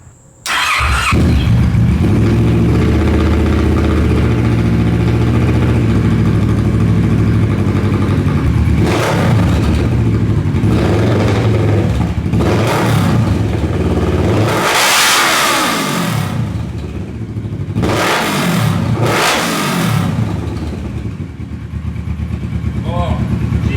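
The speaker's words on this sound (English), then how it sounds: "let's fire it back up, get it up to temperature, and we'll give it some revs." A rebuilt Kawasaki Ninja 650R with a very loud exhaust idles inside a closed garage, then revs repeatedly in sharp rising and falling bursts, close and booming with echo.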